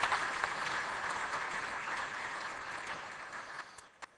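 An audience at a tech conference session breaks into applause, a moderate wash of clapping that gradually thins and fades, ending with a few last isolated claps.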